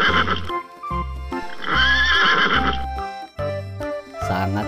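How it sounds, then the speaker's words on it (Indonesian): A white horse neighs with a loud, shrill, trembling whinny in the middle of a bouncy, repeating tune, close and prominent. "Ada kuda warna putih."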